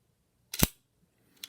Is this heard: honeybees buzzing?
no